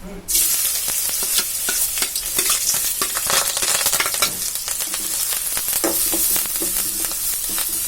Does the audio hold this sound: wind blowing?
no